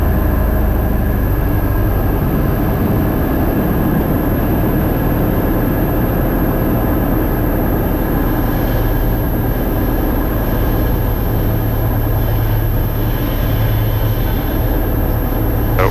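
Inside a Cessna 172 on landing approach, a steady, loud engine drone fills the cabin, a constant dense roar that barely changes over the whole stretch, with no voices.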